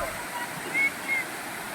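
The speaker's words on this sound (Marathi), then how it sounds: "ह्याच्या पुढं एक मेन धबधबा आहे" A waterfall on the Kas plateau gives a steady, moderately distant rushing hiss of falling water, unbroken for the brief moment.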